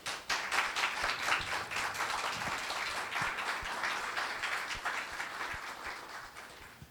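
An audience at a literary event gives a round of applause, dense continuous clapping at moderate level that gradually thins and fades toward the end.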